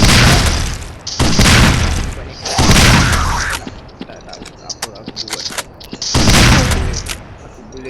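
Heavy automatic gunfire in a zombie video game, bursts of loud booming shots in several long volleys separated by short lulls with scattered single shots, with a voice speaking among them.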